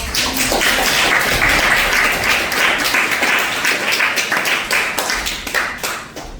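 Warm applause from a game show audience welcoming the first contestant, a dense burst of clapping with sharp individual claps standing out, gradually thinning and tapering off toward the end.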